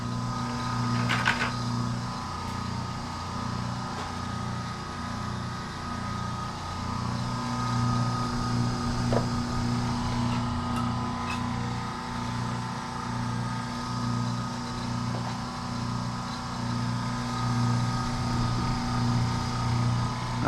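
Copper wire being fed through a wire stripper with a small cutting wheel, heard as a steady, close mechanical hum with a throbbing, pulsing rumble and occasional light clicks and scrapes.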